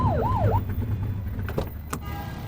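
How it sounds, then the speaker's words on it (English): Police car siren in The Precinct video game, a wailing two-tone sweep that rises and falls a few times at the start, then cuts off, leaving steady engine and road rumble with a couple of sharp clicks. "Get on their tail and flip the siren."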